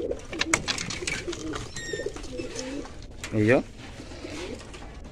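Pigeons in a loft, one bird giving a clear throaty coo under a voice, amid other soft bird calls and shuffling close by.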